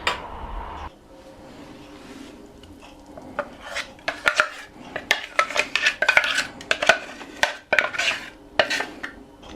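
A steel mixer grinder jar being rinsed with water in a kitchen while making bun dosai: irregular clinks, knocks and scraping of metal against metal, then sloshing and swirling, steady and fairly close with no talk.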